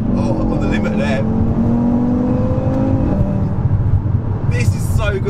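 A BMW F80 M3 accelerates hard on track, its engine note rising in a loud sustained drone close to the car, with a voice talking over the engine.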